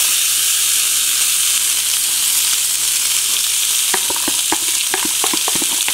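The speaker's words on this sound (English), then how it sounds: "Now, you're going to saute that all together." Chopped onion and bacon sauté in a pan with a loud, constant sizzle, and a series of sharp utensil taps and scrapes starts partway through as the mix is stirred.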